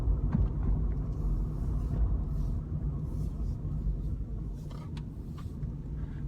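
A car driving around town streets in Bletchley, a steady low engine and road rumble heard from inside the cabin, with faint higher noises over it and no talk.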